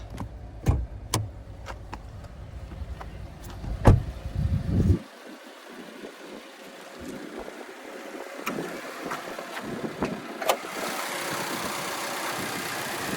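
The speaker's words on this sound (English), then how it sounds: "Let's check out that 2-liter boxer engine." The 2-liter boxer engine of a 2021 Subaru Impreza hatchback idles close by with a low steady rumble that cuts off partway, leaving quieter hiss, scattered clicks and light wind noise.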